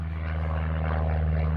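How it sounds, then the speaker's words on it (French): A propeller airplane drones overhead as a steady, continuous low hum with a dense harmonic buzz, moderately loud and unchanging throughout, with no voices. "Encore un oiseau à moteur qui passe. Donc ça s'appelle un avion."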